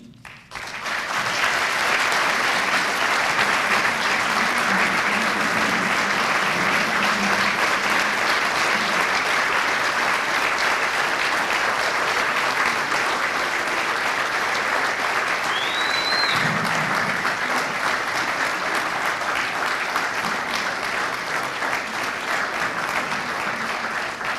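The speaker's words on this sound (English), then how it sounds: "let's give everyone another big round of applause" Sustained applause from an audience at the 2016 Vacaville Fire Department awards ceremony, a steady dense clapping that swells in the first seconds and holds loud and continuous throughout.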